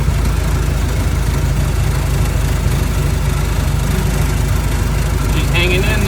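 A Model T Ford engine labouring uphill under heavy throttle, a loud, steady low rumble throughout, close and dominant, with a faint higher chirp near the end.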